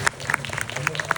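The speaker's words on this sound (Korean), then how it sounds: "정말 함께 여기 계신데 박수 한 번만 주시면" Brief scattered applause from an audience at a film festival screening and guest talk, honoring the film staff, with sharp individual claps over a murmuring crowd, fairly soft and indoors.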